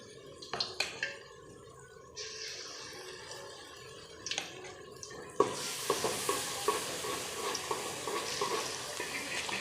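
Pakoras of potato, eggplant and chili frying in hot oil: steady loud sizzling that erupts around midway as more battered pieces drop in, with scattered clinks and stirring sounds before it.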